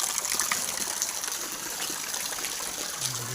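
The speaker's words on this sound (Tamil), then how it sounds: "இப்போ நான் பின்னாடி அப்படியே மழை பெஞ்சு விட்டு தண்ணி காட்டுறேன் பாருங்கள், செம்ம தண்ணி." Rainwater rushes and gushes steadily after a heavy downpour near Tirumalai Agaram, a broad continuous watery roar close to the listener, with a brief low hum near the end.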